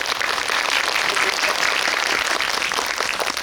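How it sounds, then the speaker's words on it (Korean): A cinema audience at a film guest visit in Seoul's Lotte Cinema World Tower breaks into dense, sustained applause, loud and even throughout, with faint voices mixed in. "박수"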